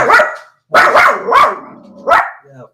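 A dog barks loudly and close by, about four sharp barks. A short pause follows the first, then three more come in quick succession, ending with a brief whine.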